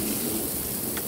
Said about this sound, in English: this is just a standard garden hose with a spray attachment